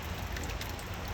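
Steady rain falls in a dense, even hiss on an April day in New Jersey, constant and without breaks, with no voices.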